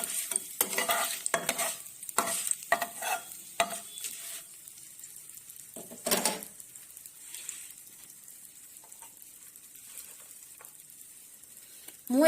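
Bay leaves and cinnamon fry in hot oil for a crab curry, a steady close sizzle with scraping stirs early on that settles into quieter crackling.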